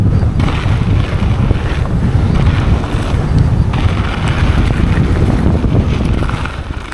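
Loud, steady wind buffets the microphone while riding an electric mountain bike straight into the wind, a continuous low roar that barely varies and eases slightly at the end.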